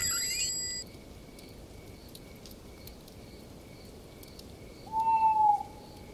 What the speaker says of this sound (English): Who is that hooting out there in the gathering dark?